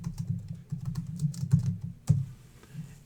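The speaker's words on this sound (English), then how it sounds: "if we go and type something else in here, like Ranger Dan" Typing on a computer keyboard, a quick, close run of soft, irregular key clicks with a sharper keystroke near the end.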